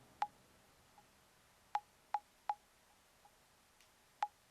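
Sparse percussion hits from a Teenage Engineering OP-1 synthesizer, short bright clicky pings at irregular intervals with faint echo-like softer repeats between them, quiet against a low background hiss.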